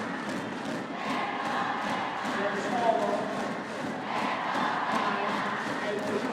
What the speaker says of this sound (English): The crowd getting pretty excited